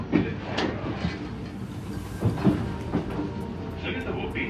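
Inside a train heading to Jurmala beach near Riga, a low rumble of the carriage runs under the scene with a few soft knocks and clatters, while faint voices murmur in the background.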